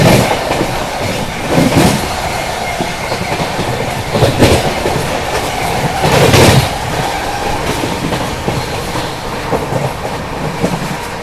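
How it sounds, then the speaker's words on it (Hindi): Duronto Express train running at high speed near Mancherial railway station, a loud continuous rush of wheels and rails with repeated clickety-clack bursts and rattling of the carriage. "एकदम तूफान की तरह भाग रही है गाड़ी, एकदम तूफान।"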